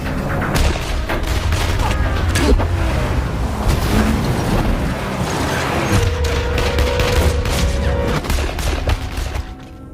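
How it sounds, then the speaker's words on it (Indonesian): Dense bursts of gunfire and booming explosions, rapid cracks over a rumbling background, continuous and loud throughout. "Hingga terjadilah ledakan dan baku tembak antara mereka."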